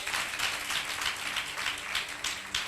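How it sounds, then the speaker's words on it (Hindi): A church congregation applauds during a Sunday worship service, steady dense clapping from many hands filling the room without pause for the whole stretch, moderately loud and close. "एक ताली दे सकते हैं।"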